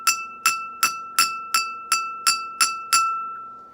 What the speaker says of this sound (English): So if I hit my glass, and I'm going to hit it right here.